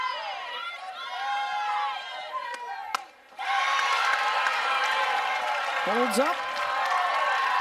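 A sold-out crowd cheers and roars continuously at a college softball game between Oklahoma and Oklahoma State, with the bases loaded on a full count and a commentator talking over the din.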